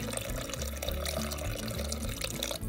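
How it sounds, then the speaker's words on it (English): Water is poured into a pressure cooker pot for lasagna soup, making a close, continuous gurgling splash that lasts throughout. "So I'm gonna add 1 or 2 more cups of water."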